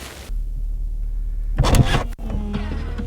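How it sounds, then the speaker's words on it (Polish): The automatic boot lid of a BMW E38 750iL whirrs as its motor lifts and closes it, with a short mechanical clunk partway through over a steady low hum. "samochód ten nie dość, że był wyposażony w automatyczną klapę, co na tamte lata było hitem podnoszenie i zamykanie"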